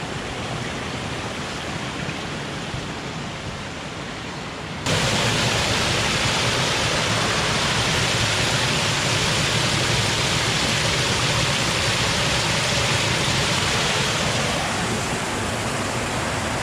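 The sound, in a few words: Himalayan mountain stream water, filling a water bottle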